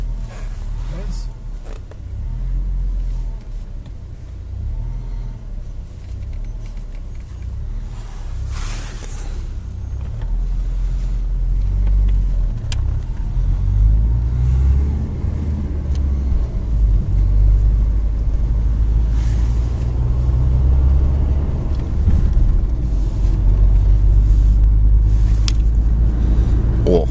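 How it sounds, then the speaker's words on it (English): Heavy city traffic in Buenos Aires on the way to a football match, with a continuous low rumble of cars and engines that swells toward the end, heard from inside or near a vehicle, and people talking over it at times. "Oh, too much traffic."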